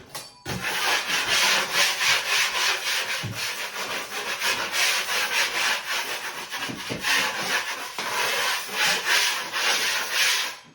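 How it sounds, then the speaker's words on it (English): Repeated rasping scrapes of a metal trowel dragged across skimmed drywall compound, knocking down high spots, a steady back-and-forth rhythm of strokes, close by with no talking. "I'm just gonna scrape down any of the high spots that were incurred from the skimming."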